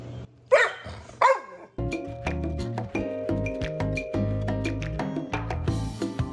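A dog barks loudly twice near the start, sharp close barks, followed by a steady stretch of tonal background sound with soft thumps and faint yips through the rest.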